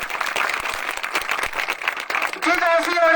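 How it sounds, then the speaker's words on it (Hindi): Audience applause welcoming a guest named Sanjay Singh at a school program with children, steady dense clapping under a loud hall din, with a sung or voiced tone rising near the end. "बच्चों से जोरदार तालियों से अपील करता हूं भाई साहब का स्वागत करें संजय सिंह पर"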